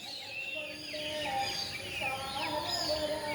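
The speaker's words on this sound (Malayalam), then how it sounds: "പലതരം കിളികളുടെ സൗണ്ട് ഇങ്ങനെ ത്രൂ ആയിട്ട് ഇങ്ങനെ നിറഞ്ഞിരിക്കുകയാണ്" Several birds chirp and whistle in overlapping calls in the Nagaravanam urban forest at Punalur, Kollam, Kerala, faint and somewhat distant over a soft background hiss.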